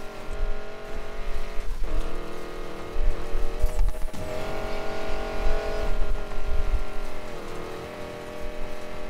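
A Ford Mustang roars through a race in Need for Speed Payback, its engine revving loudly and continuously close by, with brief tire squeals and skids breaking through the drone.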